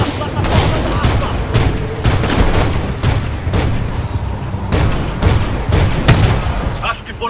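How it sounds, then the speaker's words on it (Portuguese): Heavy enemy gunfire in the shooter game Titanfall 2, loud and nearly unbroken volleys of shots and booms, with voices heard over the battle. "Não podemos avançar com aquelas armas atirando."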